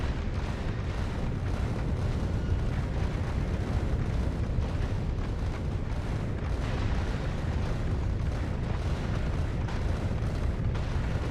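Dense, continuous barrage of rocket explosions in Factorio Space Age, booming and crackling loudly without pause across the whole stretch, with no voices.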